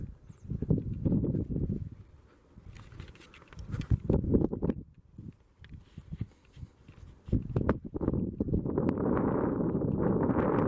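Wind gusting at a campsite, buffeting the microphone in rough low rumbling bursts that rise and fall, ending in a stronger sustained roar, with scattered knocks and rustles nearby.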